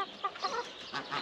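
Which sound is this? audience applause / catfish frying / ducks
ducks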